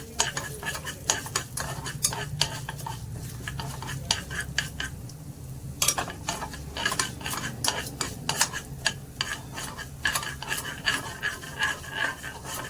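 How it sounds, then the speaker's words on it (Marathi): Broken wheat lapshi rava being sautéed in a pan, a rapid run of close spoon scrapes and clinks against the metal over a soft sizzle, continuous and busy throughout. "हे जरा चांगलं परतून घ्यायचं आहे व्यवस्थित फुलेपर्यंत लापशी रवा फुलायला पाहिजे"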